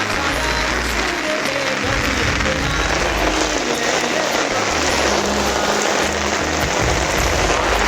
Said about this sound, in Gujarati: વાત જ ના થાય એટલો બધો વરસાદ આવે છે